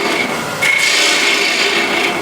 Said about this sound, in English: I want to hollow with the ball gouge